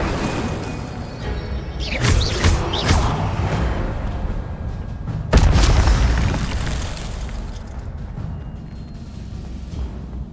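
Incendio fire spells cast in combat in the video game Hogwarts Legacy, heard as loud whooshing, booming bursts with a big blast near the middle over a busy game soundscape.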